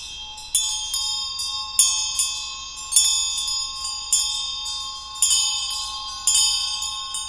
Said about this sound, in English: when we do the bell, the main thing is that the clacker is hitting on the back, only on the back of the bell